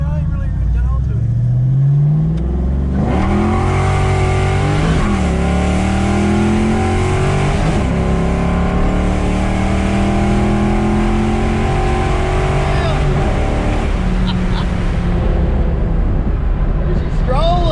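Fox body Ford Mustang accelerating hard on a warm street, engine revving up through several gears with rising harmonic sweeps and brief shift dips, loud and close, wound out to the top end.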